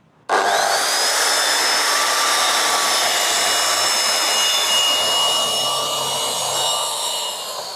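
A JEMAR track saw cuts through wood, starting abruptly and running as a loud, steady high-pitched whine and rasp for about seven seconds with no speech.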